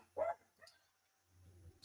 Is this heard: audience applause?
no